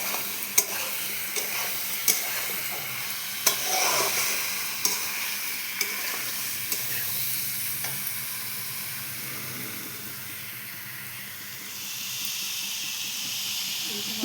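Eggplant fries and is stirred in a pan with a continuous hissing sizzle, marked by regular sharp clacks of a spoon against the pan and quiet voices now and then.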